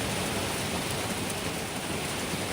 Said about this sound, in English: So yeah, a lot of rain